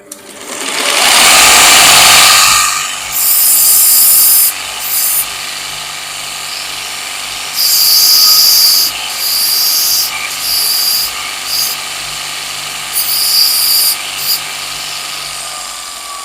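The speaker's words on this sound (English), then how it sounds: "I sharpen the old tungsten, so we'll just give that a run" Abbott & Ashby 200mm bench grinder sharpening a tungsten electrode: a loud motor whine spins up, then repeated harsh grinding bursts of a few seconds each as the tip touches the wheel, with the motor humming between.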